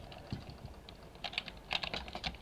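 Faint, quick mouse clicks come during bridging in a video game, scattered at first and then bunching into a rapid burst of light taps.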